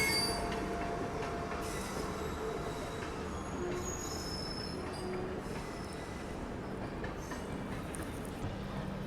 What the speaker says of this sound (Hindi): मेरे ख्याल से इसका नाम गंगा कावेरी एक्सप्रेस है